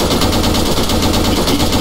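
Sustained automatic rifle fire in an Arma military game battle, a dense, continuous roar of rapid shots that fills the whole stretch at high, steady loudness with no talk.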